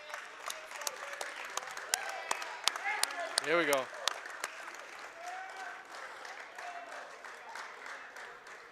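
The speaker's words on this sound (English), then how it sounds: "Now the applause starts." Crowd applause and cheering in a school gym during a boys' high school basketball game, a steady roar of clapping with a whistle-like rising tone mid-way and a commentator talking over it.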